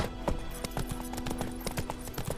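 Geralt's horse Roach trotting in The Witcher 3, a steady run of clip-clop hoofbeats carried over a low hum of game ambience, fairly close and at an even pace, with no talking over it.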